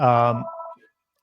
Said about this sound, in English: oh shoot, my phone's going off